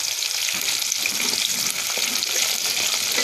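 Whole-spice tempering for khichuri crackles and sizzles steadily in hot oil, a dense, close, continuous frying hiss with faint stirring.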